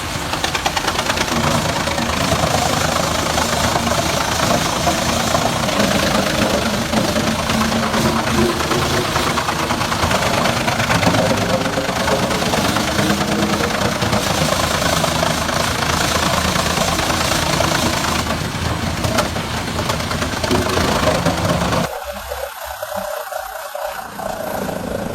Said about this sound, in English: You can feel the danger idling from this machine